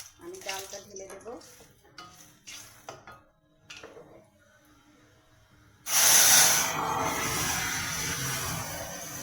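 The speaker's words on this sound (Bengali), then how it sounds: "লঙ্কাগুলো লাল হয়ে গেলেই আমি ডালটা ঢেলে দেব।" Dal poured into hot oil with red chillies fried until red, for a thin sour dal with chalta: after quiet kitchen clatter, a sudden loud sizzling hiss bursts up and keeps spitting steadily to the end.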